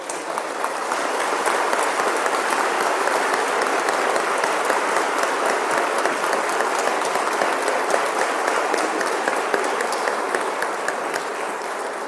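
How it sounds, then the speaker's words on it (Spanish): A large crowd at a government ceremony claps steadily, a dense, even roar of applause that holds at the same loud level throughout with no voices standing out. "nuestro ministro necesita un aplauso de todos nosotros"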